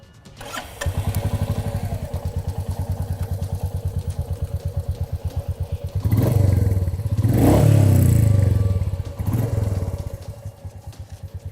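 A Royal Enfield Meteor 350 motorcycle starts and settles into a thumping idle, then revs up twice in deep, throaty bursts before dropping back to idle.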